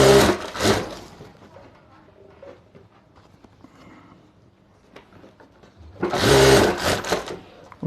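Two bursts of a sewing machine stitching a zip onto handbag lining, one brief at the start and one longer near the end, separated by quiet handling sounds.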